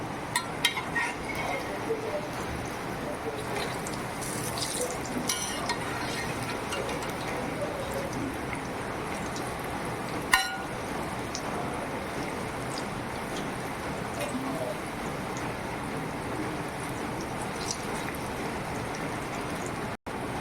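Onion and chilli bhaji frying in hot oil, a steady dense sizzle and bubbling that runs throughout, with occasional clinks of a utensil as the fritters are flipped.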